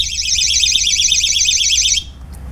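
Power Back THP 108 power alarm attached to a breaker box, a loud, shrill warbling electronic tone sounding steadily for two seconds and then cutting off, leaving a low background hum.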